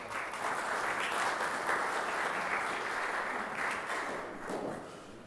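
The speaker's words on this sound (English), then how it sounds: "So I measured that applause" An audience applauds at a Jewish Federation annual campaign kickoff event, a dense, steady wash of clapping that stays fairly even and tapers slightly toward the end, with no speech over it.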